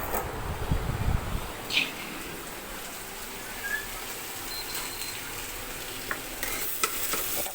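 Food fries on a home stove with a constant soft sizzle, broken by a few louder stirring scrapes and small clinks close by.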